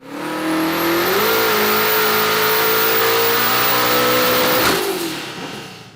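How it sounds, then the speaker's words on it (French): A Venom GT supercar's 7-litre twin-turbo V8 revs hard and close, holding a loud sustained drone that climbs once, then drops away near the end as the throttle lifts. "Le moteur de la NC Venom GT est un V8 biturbo 7 litres, développé en interne par NC."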